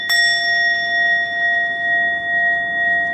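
A bell struck once with a sharp attack, then a clear sustained ring of several steady overtones that decays very slowly and carries on alone for over three seconds.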